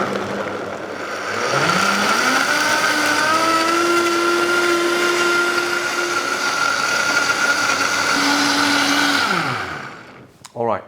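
A Vitamix blender whirs through a green smoothie, its motor pitch climbing as the speed builds and then holding a loud, steady high whine before winding down near the end.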